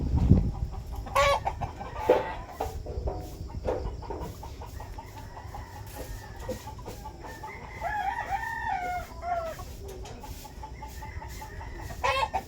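Gamefowl hens from an imported line clucking steadily at close range, with a few brief crows and outdoor farmyard ambience running underneath throughout.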